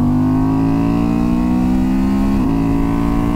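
A 2023 Honda Transalp motorcycle engine holds a steady, loud, close mid-pitched drone with a clear tonal hum, rising slightly in pitch before a brief dip near the end.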